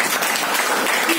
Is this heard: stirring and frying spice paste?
no